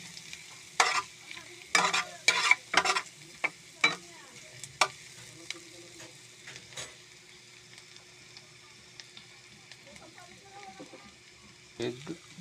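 Butter shrimp stirred in a pan, giving a run of sharp scraping clacks and spatters in the first few seconds, a quiet sizzle in between, and another burst of stirring near the end.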